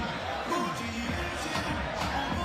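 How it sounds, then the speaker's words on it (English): Basketball crowd at a FIBA 3x3 AmeriCup game, a steady roar of cheering and chatter filling the arena, with voices mixed in. "The crowd is lit."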